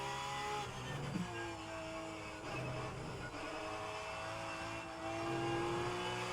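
A Porsche 911 GT3 Cup 992 race car engine in the rFactor 2 racing game, droning loud and constant as revs climb and drop through gear changes, with a brief tire squeal.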